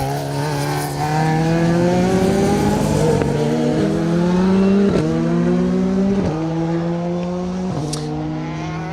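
A single rally car engine revs hard through repeated gear changes on a rally stage, the pitch climbing and dropping with each shift, loud and close.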